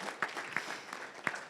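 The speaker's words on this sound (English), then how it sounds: "Give her a round of applause." An audience claps at a networking summit event, a steady patter of applause with a few sharper, closer claps standing out.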